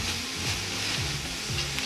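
Leeks sweating in a pot for leek and potato soup, giving a steady soft sizzle with faint scraping strokes of stirring at a regular pace, close up and with no voices.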